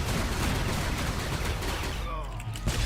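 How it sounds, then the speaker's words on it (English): Assault cannons fire in Star Wars: The Old Republic, a dense, continuous barrage of overlapping blasts that stays loud for nearly three seconds and eases slightly near the end, with talk mixed in. "Let's stand really close to each other and shoot our assault cannons"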